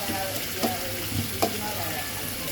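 Dried fish (shutki) frying in oil gives a continuous close sizzle, broken by a few light scraping stirs and clinks against the pan.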